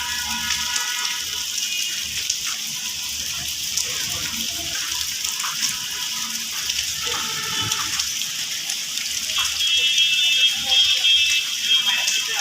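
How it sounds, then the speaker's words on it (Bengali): Steady rain pours onto the leaves of trees, including a lemon tree, as a dense continuous hiss that lasts throughout and grows slightly heavier toward the end. "হরদম বৃষ্টি চলতেছে এই যে বৃষ্টি বৃষ্টির পানি পড়ছে গাছের মধ্যে"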